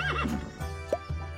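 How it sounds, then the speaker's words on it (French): A horse whinnies up close in a quick, rising and falling call, with light hoof clip-clops and a steady tonal background. "Peut-être un cheval?"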